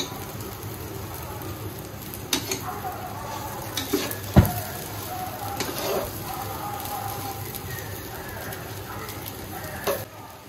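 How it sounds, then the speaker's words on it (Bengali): Ingredients for chicken tehari with sugar added are stirred and fried in a pan, a steady sizzle with scraping strokes and occasional clinks of the utensil. "এখন নেড়ে দিচ্ছি, এটা দিয়ে একটু নেড়ে ভেজে নিব।"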